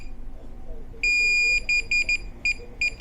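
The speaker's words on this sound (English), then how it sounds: "Hold that down for a few seconds till it starts to beep." A DJI Mavic Air 2 drone remote controller gives one long high-pitched beep, then a series of shorter beeps in an uneven rhythm, close by over faint background noise.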